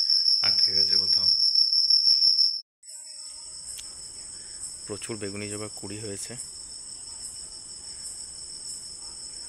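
Loud, steady high-pitched cricket chirping fills the whole stretch outdoors, with a brief drop partway through before it resumes; a person speaks over it in short bursts.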